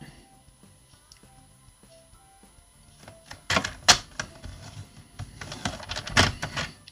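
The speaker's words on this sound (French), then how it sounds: "je vais scorer avec ma planche à découper" Paper being scored on a cutting board used as a scoring board, with a few soft taps at first, then louder scraping and pressing strokes in bursts close by, no talking.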